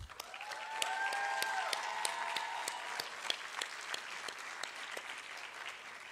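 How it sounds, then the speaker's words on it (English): Audience at an inter-college environmental public speaking competition gives sustained applause for all the participating teams, dense steady clapping with a few brief tonal notes ringing over it early on. "let's take a moment to applaud each and every participating team."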